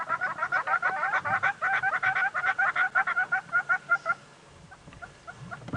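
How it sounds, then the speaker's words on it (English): Hornbills call on an African safari drive with a rapid, rhythmic series of hollow clucking notes that repeats steadily for several seconds and then fades into quieter scattered calls. "There are those hornbills calling."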